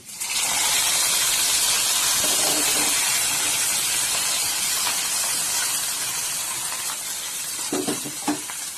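Hot mustard seed tempering with curry leaves pours into fenugreek porridge with a loud, continuous sizzle and hiss, fading slightly toward the end, with a few faint clinks of utensils.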